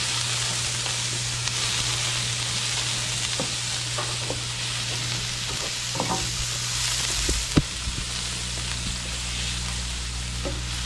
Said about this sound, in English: Let's saute that.